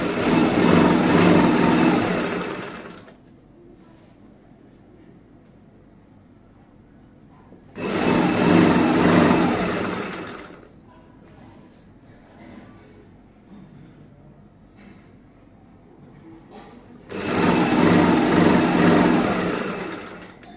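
A sewing machine stitches two cut kurti fabric pieces together along the front seam in three loud bursts of a few seconds each, separated by quiet pauses.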